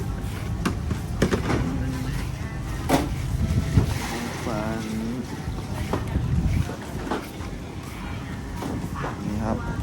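Fishing boats putter in one after another at the Laem Chabang fish pier by the sea, with engine chug and wind noise, while people talk nearby.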